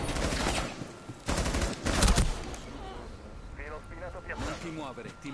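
Bursts of rapid video-game gunfire crackle loudly in the first seconds, then a person talks over softer background effects.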